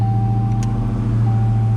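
A Chrysler 300 with a Hellcat engine idles with a steady low rumble and a faint whine.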